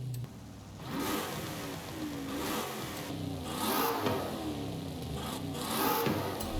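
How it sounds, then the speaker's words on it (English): A car with a sports exhaust revs repeatedly in Forza Horizon 5, the engine climbing and falling in several loud surges with gear-change breaks between them. "The sports exhaust sounds the best."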